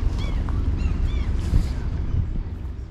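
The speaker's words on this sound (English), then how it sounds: "A little noisy on the boat." Steady low rumble of a water taxi motoring across the harbor at Valdez, Alaska, with constant wind buffeting and a few faint high chirps over the engine drone.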